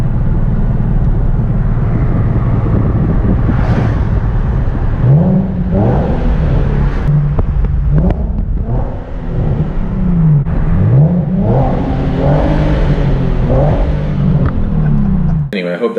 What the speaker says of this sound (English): how good the exhaust sounds outside of the car